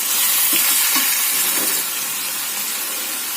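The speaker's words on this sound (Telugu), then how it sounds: "బాగా కలుపుకోవాలి కొంచెం కారం పసుపు ఉప్పు వేసినాం కదా" Tomato and onion curry with chilli powder, turmeric and salt, stirred in a hot pan: a loud, close, steady sizzle with a few scraping strokes of the spoon early on, and no talking.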